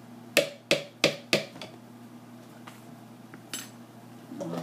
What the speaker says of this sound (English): Just stir that in there.